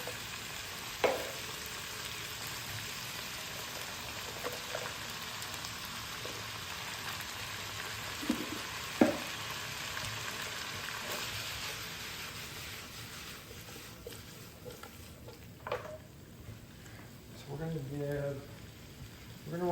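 Pasta goes into a hot pan of sauce and vegetables and is tossed, giving a low steady sizzle with a few scraping knocks, under occasional talk.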